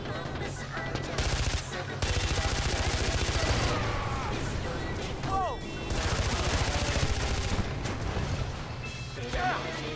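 Rapid automatic gunfire in Far Cry 4, shot from a gun mounted under a car's dashboard, hammering in loud sustained bursts with short breaks while frantic voices shout over it.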